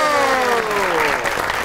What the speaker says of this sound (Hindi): आपकी बहुत सी तालियों में the one and only Sabeen गुल खान